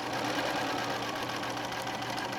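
A sewing machine runs steadily, stitching fabric pieces for a quilt block with a fast, even mechanical whir that stays close and fairly quiet across the whole stretch, with no talking.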